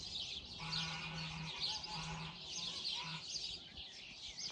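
Farm animals calling outdoors, with geese, ducks, dogs and pigs about: repeated honking and bleating cries layered over a steady hiss of background noise, moderately distant and fairly faint.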